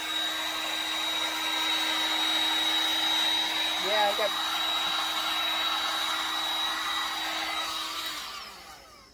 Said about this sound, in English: I might go with the blow dryer